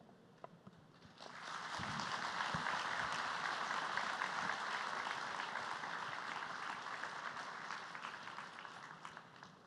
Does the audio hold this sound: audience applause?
yes